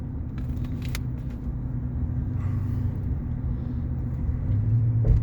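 A GMC Sierra 2500HD truck rolling through traffic gives a low, steady engine and road rumble with a few brief clicks and knocks, rising slightly toward the end.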